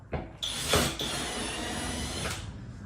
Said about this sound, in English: I like to pre-drill them at a bit of an angle.